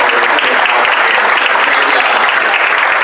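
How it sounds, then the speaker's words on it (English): A large audience applauds the president at a 25th anniversary rededication ceremony, loud continuous clapping filling the hall with no pauses. "Big round of applause for President"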